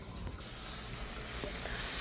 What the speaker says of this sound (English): Now that we're starting to boil,